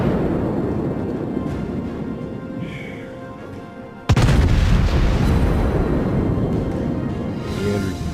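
Naval gunfire in World of Warships, with a rumbling sea-battle ambience before a sudden loud cannon blast from a Royal Navy Leander light cruiser, followed by a sustained heavy boom and rumble.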